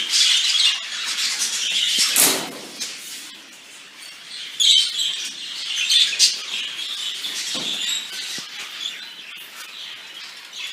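Many young birds, up to about six months old, squawking and chirping together in an aviary in a busy, continuous chorus with occasional harsher calls and wing flutters, fairly close.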